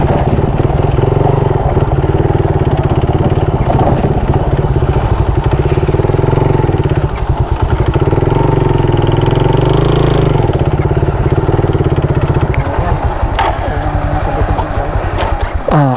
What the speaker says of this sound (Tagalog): Tapos may motor dito.